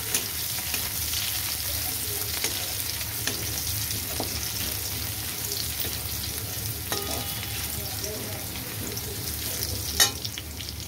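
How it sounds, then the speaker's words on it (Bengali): Grated garlic fries in hot oil in a home kitchen, giving a continuous close sizzle with occasional stirring scrapes and small clinks throughout. "তেলটা গরম হয়ে গেছে, আমি দিয়ে দিচ্ছি রসুনটাকে"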